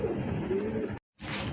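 Pigeons at a breeder's loft coo softly and continuously, with a brief silent gap before the murmuring resumes, close and fairly quiet.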